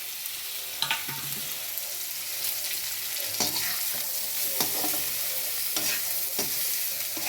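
Banana flower poriyal being sautéed in a pan: a steady frying sizzle broken by repeated scraping strokes of a spoon stirring the mixture, close up and without speech.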